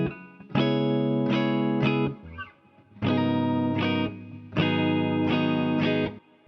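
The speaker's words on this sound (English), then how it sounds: "I've processed my guitar using my 1176, Ozone 9 Dynamics, my multiband, and some EQ" An electric guitar plays repeating chord phrases in bursts, processed with compression, multiband dynamics and EQ and washed in reverb and effects, with short gaps between loops.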